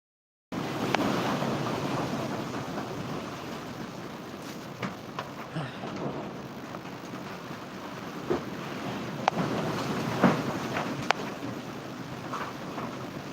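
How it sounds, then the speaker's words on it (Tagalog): Strong typhoon wind in the Bicol region roars continuously and loudly into the microphone, with gusting buffets and scattered knocks over a dense, rushing bed of noise. "Naririnig niyo ba ang hagungong ng hangin?"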